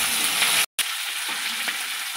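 Onion, green chili and tomato frying in a pan, a steady close sizzle cut by a brief dropout of silence before the hiss resumes, with light stirring scrapes.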